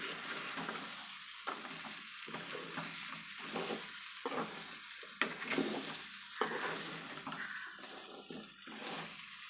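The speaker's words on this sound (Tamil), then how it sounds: "இந்த மசாலாவிலே நல்லா நண்டை வதக்கிக்கலாம்" Steady sizzling of crab sautéing in masala in a pan for crab pepper fry, with intermittent stirring scrapes and bursts of hiss, close and moderately quiet, no voices.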